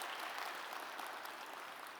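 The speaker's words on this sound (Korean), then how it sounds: "여러분 크게 박수로 환영하시죠." Church congregation clapping to welcome a new minister during a Korean worship service, a soft, even spread of applause sounding fairly distant and sustained throughout, with no talking.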